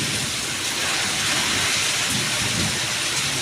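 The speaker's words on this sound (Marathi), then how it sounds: "पाऊस लागता का रे." Heavy rain pours steadily over a green net in the Konkan during a thunderstorm, a dense, loud hiss with a low rumble of thunder beneath it, no voices.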